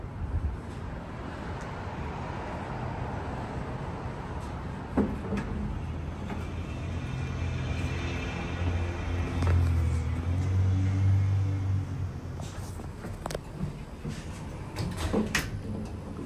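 A vintage Otis traction elevator in the Alico Building garage runs with a steady low motor hum and rumble, punctuated by clunks and sliding door movements, with no talk.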